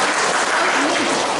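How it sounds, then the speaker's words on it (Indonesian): Sustained audience applause at a character-education training session, a thick, even roar of many people clapping close by, with faint voices mixed in. "Kita berikan tepuk tangan."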